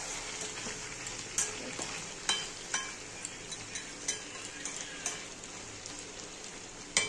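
Chicken and potato curry sizzles and fries steadily in a pan, with a continuous crackling hiss and occasional louder pops and stirring scrapes, close and without talk.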